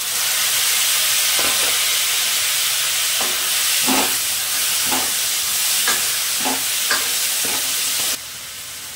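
Finely chopped tomato drops into chillies frying in a pan for a dhaba-style sev bhaji, giving a loud, steady sizzle with repeated stirring scrapes throughout, then a sudden change near the end.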